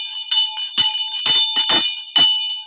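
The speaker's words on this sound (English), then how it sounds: "Yes, the bell." A boxing-style ring bell clangs repeatedly in quick, loud strikes at the opening of a live show, its bright metallic tones sustaining between hits.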